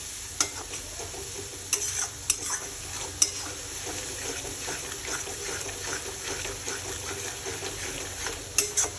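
Spice masala for a Bengali-style chicken curry stir-fried in a pan: a constant soft sizzle punctuated by sharp spatula scrapes and taps at irregular intervals, close and without talk.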